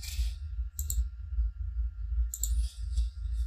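Computer keyboard keys pressed while working in AutoCAD: a few sharp, close clicks in small bursts over a low steady background hum, with no talking.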